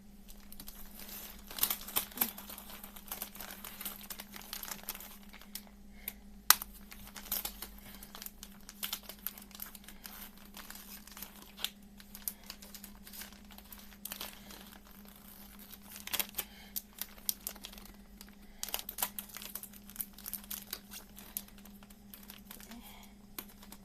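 A recycled plastic produce bag crinkles and rustles while a rubber band is stretched around its top over a mushroom grow setup, with irregular close crackles and small snaps continuing steadily, no talking.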